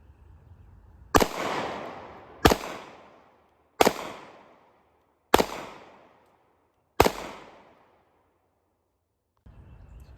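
A pistol fires five sharp shots at a target, spaced roughly a second and a half apart. Each crack is loud and close, with a ringing decay, followed by near silence.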